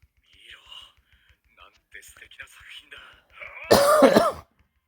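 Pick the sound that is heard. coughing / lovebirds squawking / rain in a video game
coughing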